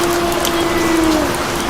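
Rain falls in a cartoon horror story, a soft steady patter with a faint drawn-out tone running across it, with no voices.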